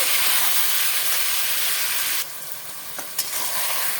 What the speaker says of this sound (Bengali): তেলটা গরম হয়ে গেছে দিয়ে দেবো মেখে রাখা চিকেন ভালো করে নাড়াচাড়া করে হাফ সেদ্ধ হতে দেবো